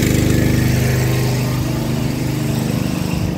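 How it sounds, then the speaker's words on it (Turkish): Generator engine running steadily close by to power a pipe butt-welding machine on a farm irrigation pond build, a continuous mid-pitched mechanical drone with no breaks. "enerji kaynağımız jeneratör"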